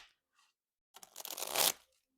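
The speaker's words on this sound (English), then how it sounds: "You hear that? Shuffles beautifully." A thick small tarot deck being shuffled, one quick riffle of cards fluttering and building to a crisp burst before stopping, close and otherwise quiet apart from faint handling taps.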